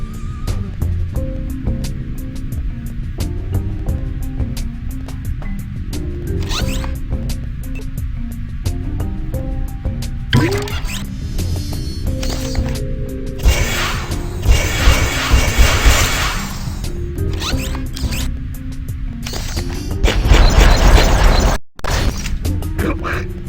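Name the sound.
making an ice block and blasting it with air gun, Despicable Me video game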